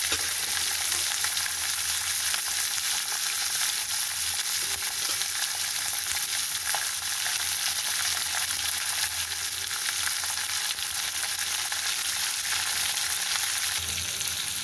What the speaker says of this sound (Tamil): வெங்காயம், கருவேப்பிலை, பச்சை மிளகாய், காஞ்ச மிளகாய் எல்லாம் போட்டு நம்ம வதக்க போகிறோம்.